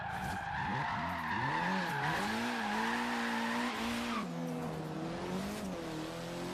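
A Ford Focus RS in the racing game Forza Horizon 3 drives hard with a steady engine drone, rising and falling revs and sustained tire squeal while skidding through bends.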